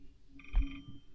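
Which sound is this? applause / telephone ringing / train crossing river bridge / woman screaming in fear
telephone ringing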